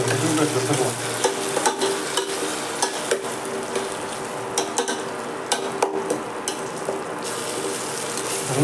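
Chopped banana flower sautéing in oil in a pan for kuzhambu, a constant close sizzle broken by repeated scraping and clacking stirs from a spoon, with no talking.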